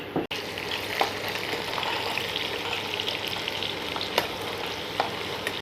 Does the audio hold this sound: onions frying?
yes